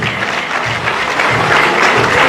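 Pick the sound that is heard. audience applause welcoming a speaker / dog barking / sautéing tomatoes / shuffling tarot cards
audience applause welcoming a speaker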